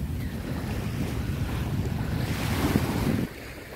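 Sea waves wash steadily onto a shore under a constant wind rush, swelling slightly louder before dropping off abruptly near the end.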